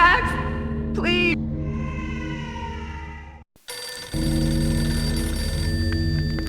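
A telephone rings in the video game Max Payne, a bright trilling tone that sounds early and cuts off, followed by a sustained tonal game sound.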